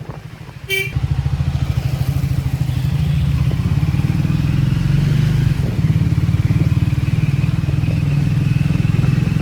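A large motorcycle carrying a passenger rides along with a loud, steady engine drone from start to finish, after a brief click at the opening.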